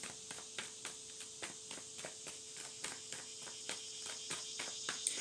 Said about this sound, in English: Y'all hear the cicadas? They so loud.